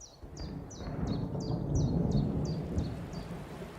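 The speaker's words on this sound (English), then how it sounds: "And when the heavy rain sets in," Heavy rain with rolling thunder over a garden in Devon, a steady dense roar of downpour with a low rumble swelling and fading through the whole stretch, and repeated bird chirps cutting in above it.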